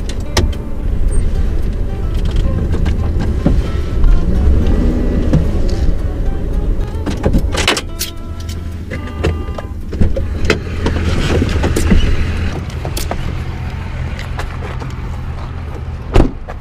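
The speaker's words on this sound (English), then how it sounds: "so I have to move the truck." A truck moves across a parking lot, its engine rumbling steadily and close throughout with a few mechanical clicks and a brief whirring, no talk.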